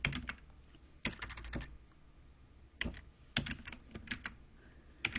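Computer keyboard keys clatter in several quick bursts as a folder path is typed, with short pauses between the runs of keystrokes, close and alone with no speech.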